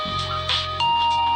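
A phone ringtone chimes in a Telugu film scene, a bright electronic melody of a few tones rising and holding steadily, loud and close with no voices over it.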